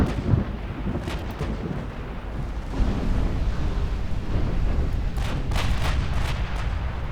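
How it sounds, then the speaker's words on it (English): A torpedo strikes a destroyer in Ultimate Admiral Dreadnoughts, a continuous heavy rumble of explosions and booming blasts with several sharper bangs. "Torpedo hits on one of my DDs."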